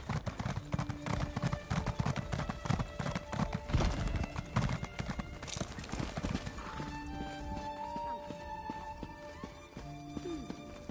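Horse hooves clip-clop in steady trotting rhythm during riding in The Elder Scrolls Online, dense and close for the first half, then thinning out as sparse tonal game sounds and a brief whinny-like call take over.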